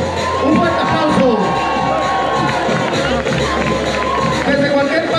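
A large crowd at a Día de Reyes gathering in El Puente, Nayarit cheers and shouts loudly and continuously, with children's voices and a bed of sustained crowd noise and music.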